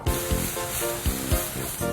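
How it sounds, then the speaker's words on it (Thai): Shallots, ginger and chopped garlic sizzle in hot oil in a pan, a continuous hiss broken by rhythmic low thumps of stirring or tossing, with no talk. "ใส่น้ำมันลงในกระทะ ผัดหอมขิงแล้วก็กระเทียมสับครับ"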